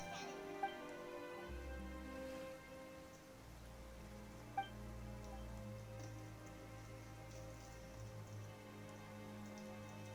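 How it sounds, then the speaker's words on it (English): Steady rain falling in the video game Genshin Impact, a continuous even patter layered over low game music, with two brief sharp chimes standing out. "Why is it raining all of a sudden?"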